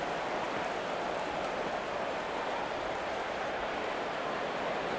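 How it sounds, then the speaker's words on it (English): Steady rain falls in the Madden NFL 25 video game during a New Orleans Saints vs Carolina Panthers match, a constant soft wash of rain noise with no breaks, fairly faint and even throughout. "The rain not letting up."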